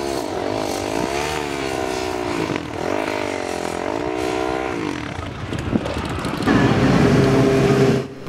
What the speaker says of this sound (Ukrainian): Поряд на трасі перегони байкерів один на один.